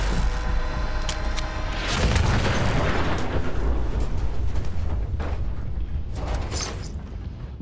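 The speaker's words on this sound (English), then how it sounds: "He's gonna explode." A large, rumbling explosion from an enemy blowing up in the video game Fallout 76, with a broad boom that swells and holds for several seconds amid continuous roaring debris, with no talking over it.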